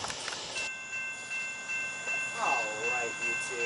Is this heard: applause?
no